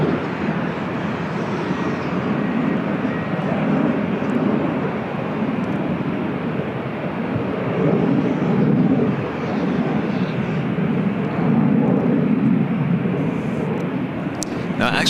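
Lufthansa Boeing 747 "Queen" airliner at LAX, a steady broad jet roar held at moderate distance for the whole stretch, swelling gently in waves with a faint background voice.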